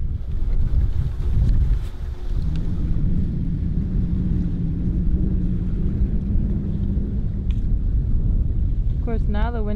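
Wind gusts over a sailboat anchored near the Colombian jungle. A loud, continuous, rumbling roar of wind buffets the microphone, and a brief voice-like sound comes near the end.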